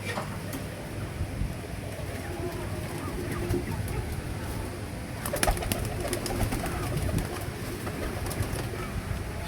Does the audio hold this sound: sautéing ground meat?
no